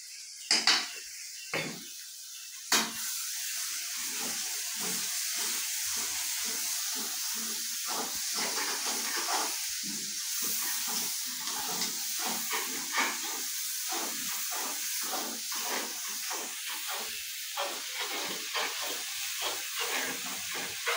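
Ginger, garlic and chili paste sizzles in a hot pan with a steady hiss, broken by clinks and scrapes of a spoon against the metal as it is stirred, close and without talk.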